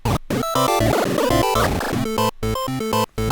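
Sonicware LIVEN 8bit warps synth played with a high rate setting, giving loud, chopped, glitchy 8-bit tones in stuttering bursts with brief dropouts, like a scratching effect, with no voices.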